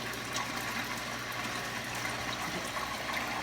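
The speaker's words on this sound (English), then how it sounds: "I'm going to give you a cup of fishy water." Fish-tank water poured from a cup onto a small potted plant, a steady close trickle and splash running throughout over a constant low hum.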